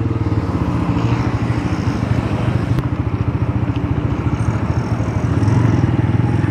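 A motorcycle ridden through city traffic in Dombivli, its engine thrumming in a steady, close, loud pulse throughout with no voices over it.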